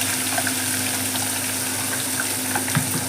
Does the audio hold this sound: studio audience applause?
no